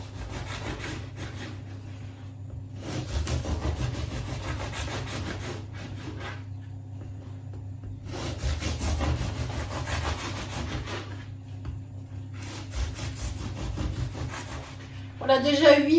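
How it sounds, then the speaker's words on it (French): Bread knife sawing through a brioche loaf in rhythmic bursts of soft rasping strokes, separated by short pauses, with a low steady hum beneath and a clatter at the end. "je vais prendre mon couteau à pain et découper des tranches de brioche"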